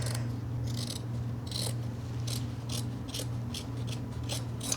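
Scissors snip yarn free from a rigid heddle loom, a series of short crisp cuts repeating over a steady low background hum, close and moderately loud.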